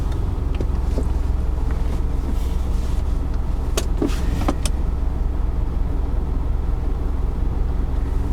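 A car driving along at steady speed, with a constant low road and engine rumble under wind noise, a few faint clicks and knocks from the cabin, and no voices.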